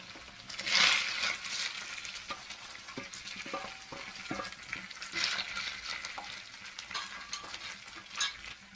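Fried onion being stirred into chilli paneer in a pan: continuous soft sizzling with repeated spatula scrapes and light clinks, moderately quiet and close, with no voices.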